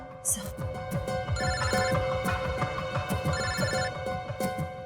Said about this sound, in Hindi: एसीपी साहब का फोन।